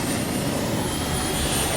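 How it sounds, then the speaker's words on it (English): A jet helicopter turbine engine fitted in a motorcycle frame gives a steady, loud, broadband roar with a thin high whine running through it, unbroken for the whole short stretch, with no voices. "Why would you put a jet helicopter engine in a motorcycle frame and try to pilot it down the street?"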